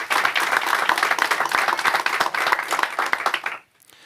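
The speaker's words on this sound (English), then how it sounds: "Let's give them a round of applause wherever they are." Audience applause at a mayoral media event on the first day of school, dense crisp clapping from a room of people that fades out sharply near the end.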